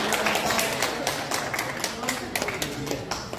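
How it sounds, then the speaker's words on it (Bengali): An audience clapping at an outdoor food festival event, scattered hand claps mixed with a speaker's voice over a noisy crowd. "একটা হাততালি হয়ে যায়"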